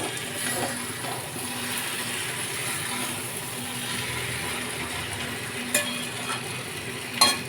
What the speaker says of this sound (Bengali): এই চিংড়ি মাছ ভালো করে কষিয়ে নেবো।